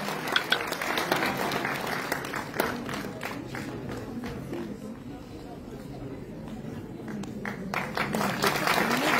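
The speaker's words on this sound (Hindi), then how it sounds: "जोरदार तालियों से इनको प्रोत्साहित किया जाए।" An audience at a school award ceremony during a cultural festival applauds, steady clapping at moderate distance that continues throughout, fading slightly in the middle and building again.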